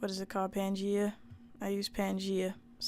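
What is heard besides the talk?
No everyday noise stands out behind the speech.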